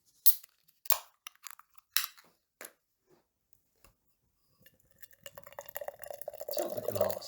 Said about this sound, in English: Let's get pouring.